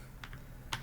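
A handful of crisp keystrokes on a computer keyboard as a terminal command is typed, close and quiet, with short gaps between taps.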